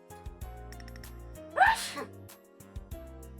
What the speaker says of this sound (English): There I sneeze again.